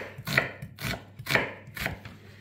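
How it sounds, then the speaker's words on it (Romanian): A knife chops through an onion on a board in four evenly spaced, crisp strokes, each a short thud with a bright crunch, close and fairly quiet, with no voices. "Și acum o să tăiem ceapa."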